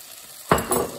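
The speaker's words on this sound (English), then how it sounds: "give this a good stir" Chilli paneer frying in a pan is stirred once, a sudden scrape and sizzle surging after a quiet moment, then settling into a softer crackle.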